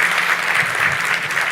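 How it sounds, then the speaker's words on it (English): Brief burst of dense clapping from an audience, steady and full throughout. "Let's give him a round of applause."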